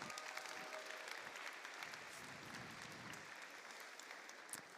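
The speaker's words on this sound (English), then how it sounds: "Give him a round of applause." Broadband, sustained applause fills a large venue at a robotics competition event, quiet and distant-sounding, with steady clapping from a crowd and faint crowd murmur beneath.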